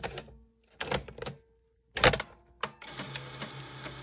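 A 1984 Sony BetaMovie BMC-220 camcorder loads a Beta tape with a run of close mechanical clicks, whirs and clunks, separated by short pauses and ending in a longer motorized rattle.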